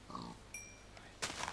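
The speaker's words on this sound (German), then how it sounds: "Deshalb müssen wir leider hier ein paar Schweine töten" Pig oinking in the Minecraft video game, short grunting bursts near the start and again at the end, with a thin electronic tone in between and no talk.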